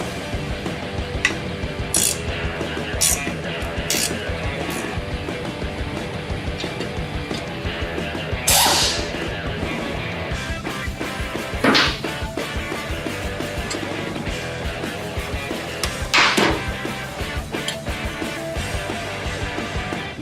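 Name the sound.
ratchet tightening stabilizer bar bracket on Jeep Wrangler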